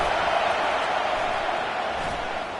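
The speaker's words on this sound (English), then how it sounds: "These fans are going absolutely nuts" A home crowd at an indoor football game roars in a dense, continuous wall of cheering noise, loud and unbroken from start to finish with no distinct voices standing out.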